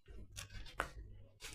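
A knife slices through soft, moist hot cross buns with a few brief, faint cutting strokes close by and no talking.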